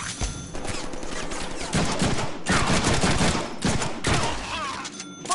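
Dense, continuous gunfire from a Deadpool game, sustained bursts of rapid shots in loud, overlapping volleys with brief dips between them, no talking.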